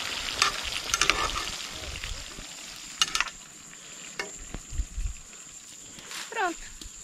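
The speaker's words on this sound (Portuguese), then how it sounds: "Só esperar fritar" Fish frying in a pan outdoors beside a creek, a steady faint sizzle under scattered clatter, a few sharp knocks and background voices.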